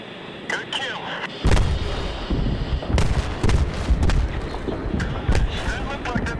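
Bombs dropped from an F/A-18F in a Battlefield 3 campaign mission detonate in a heavy, rumbling burst, followed by several further booming impacts over steady aircraft noise.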